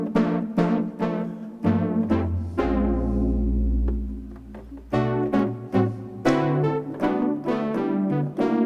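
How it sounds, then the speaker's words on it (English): Yamaha Montage FM-X synthesizer playing a brass-like patch, a series of bright stabbed notes and chords with sharp attacks, one sustained low note in the middle, loud and alone. "super fast to make it like a brass sound"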